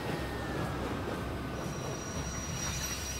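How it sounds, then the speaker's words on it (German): High-speed TGV train passing in the Transport Fever 2 simulation game, a steady continuous rail rumble with faint wheel squeal throughout, loud and close with no talk. "Da kommt der TGW noch."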